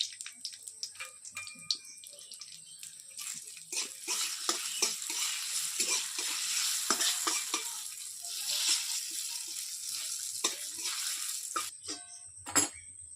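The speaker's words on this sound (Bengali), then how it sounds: "ঘিটা তখন গরম হয়ে গেছে বা কাজুগুলো একটু ভেজে নেবো" Cashews sizzle in hot homemade ghee in a wok, a steady frying hiss that swells after the first few seconds, with scattered clinks and scrapes of stirring and no talking.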